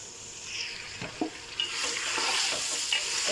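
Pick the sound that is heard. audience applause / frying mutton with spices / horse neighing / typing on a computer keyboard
frying mutton with spices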